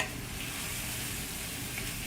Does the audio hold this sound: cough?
no